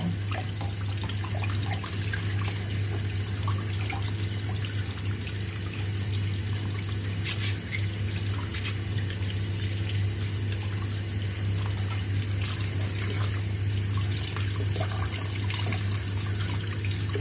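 Bamboo clams washed under a running kitchen tap, a steady, close, continuous rush of water splashing into a sink for the whole stretch, with no voices.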